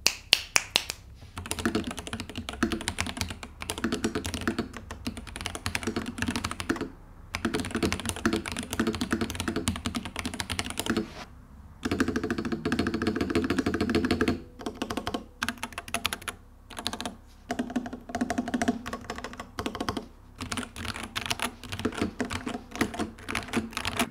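Fast typing on an ASUS ROG Azoth mechanical keyboard gives a dense, close clatter of key presses, broken by short pauses and a few bursts of heavier strokes, with no speech.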